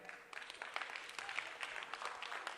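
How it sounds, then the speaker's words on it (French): A Christmas 2020 show audience clapping to vote for a performer named Mankouloutou: scattered, fairly faint clapping from a small crowd, irregular and thin, rising slightly after the first moment. "Pour Mankouloutou par applaudissement."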